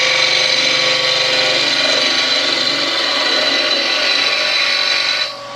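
A spindle gouge cuts wood spinning on a lathe, giving a steady, loud hissing shear with a continuous motor hum beneath. The sound drops off abruptly near the end.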